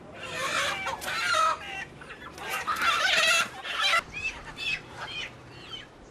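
Several chickens kept for sale by a motorbike peddler near Siem Reap, Cambodia, cluck and squawk close by in overlapping bursts, fairly loud and busy, with no one talking.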